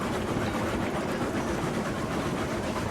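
Freight train of 27 cars hauled by a Class 70 locomotive in RailRoads Online, rolling fast on rails to a coal mine, giving a steady, dense rumble with faint clickety-clack throughout.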